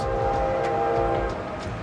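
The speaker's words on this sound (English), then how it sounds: "Hold on, there's a train coming." A train rolls past with its horn sounding, a loud steady horn tone over a low rumble, close by and alone.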